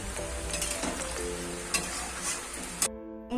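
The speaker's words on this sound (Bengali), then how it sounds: "শাহি গরম মশলা ছড়িয়ে একটু ভালো করে নাড়াচাড়া করে দেবো।" Chicken kosha being stirred in a pan after shahi garam masala is sprinkled in, with a constant loud sizzle and a few sharp scraping knocks of the spoon, ending abruptly.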